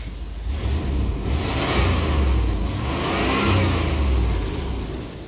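A 1993 GMC Yukon, started on old stale fuel after sitting, revs up twice in broad rising swells, a loud, close, mid-pitched engine roar settling back between pulls, with no voices.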